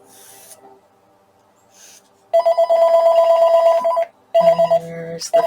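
A telephone rings in a room while paper scrapbooking goes on, bursts of trilling electronic bell tones that start partway through, pause briefly, then resume loudly, preceded by faint quiet rustling.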